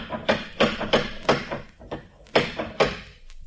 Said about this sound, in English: You could have heard that last knock out of the Farallones.